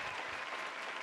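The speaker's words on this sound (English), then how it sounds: "She deserves every one of those claps." A studio audience gives Mel steady, even applause, a soft, distant wash of clapping that holds without a break.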